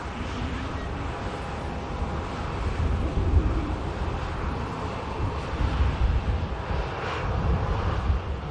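An aircraft at Manchester Airport produces a steady, broad engine roar with a deep rumble, swelling slightly at moments and mixed with some wind buffeting on the microphone.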